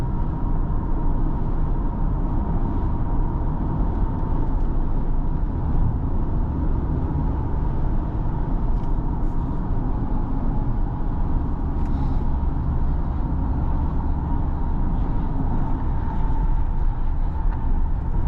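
A 2013 Acura MDX Tech SH-AWD, a second-generation SUV with 159,000 miles, drives along with a steady low engine and road rumble, heard from inside the cabin, with no talk over it.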